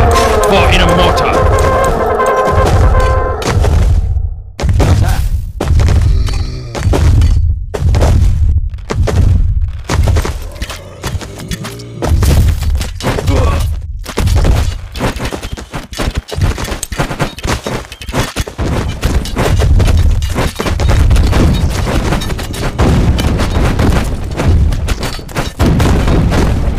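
Mortar fire and battle in Stick War Legacy, with repeated booming blasts and thuds in a dense, loud, rapid barrage, broken by short gaps, with game voices heard over the fighting.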